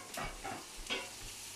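Onions stirred in a hot pan for a pork chop casserole, giving a soft, steady sizzle broken by several short scraping strokes, fairly quiet and close, with no talking.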